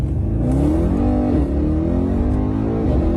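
A Mercedes E63 AMG, tuned to 780 horsepower and 1100 Nm, accelerates hard from inside the car: a loud, deep engine note climbs steadily through the revs, with a brief dip at a gear change.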